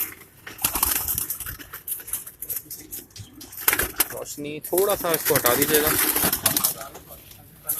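Ferozpuri pigeons in a loft coo softly while wings flap and flutter in bursts, with patter and rustling close by as someone talks over them in Hindi.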